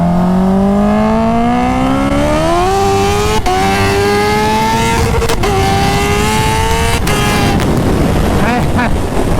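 A stretched Kawasaki H2R motorcycle making about 300 hp accelerates hard in first gear, its loud, close engine note climbing steadily in pitch with sharp shift-like breaks and a roaring, windy finish, with traffic around.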